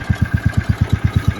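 An old Jacobsen utility cart engine runs steadily, with a regular low thumping pulse of about eight beats a second. The engine is close and fairly loud, with a faint steady whine over it and no voices.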